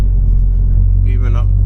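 A 1994 Toyota JDM MR2 Turbo moves at low speed with a heavy, steady engine rumble and drone close by, while a voice murmurs faintly over it.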